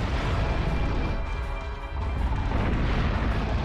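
Dense, continuous booming roar from a tank cannon firing in the video game Dino Crisis 2, loud and sustained with a brief dip midway and no talk.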